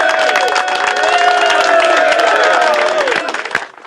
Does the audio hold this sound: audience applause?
yes